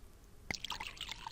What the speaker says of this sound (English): So we're going to pour that out and take some fresh water.